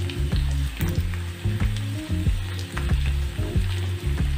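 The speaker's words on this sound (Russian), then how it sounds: "Вот у меня прошла минута, а я теперь переворачиваю картофель." Potato slices frying in a generous amount of hot oil in a nonstick pan for a Spanish omelette, a steady close sizzle broken by repeated scraping and stirring strokes, no talk.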